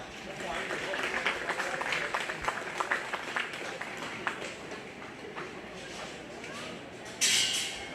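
Applause from the audience at a 4-H and FFA swine show at the Greene County Fair, greeting exhibitors after a class of cross gilts: steady, dense clapping from a crowd in a large space, with a louder burst of claps near the end.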